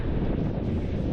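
A strong wind roars steadily across a beach, a dense, continuous close rush buffeting the microphone.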